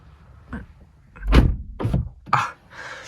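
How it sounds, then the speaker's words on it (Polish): A BMW E82 coupe's car door swings and shuts with a solid thunk, followed by a few smaller clicks and rustles nearby; no voices. "zamkniemy sobie drzwi"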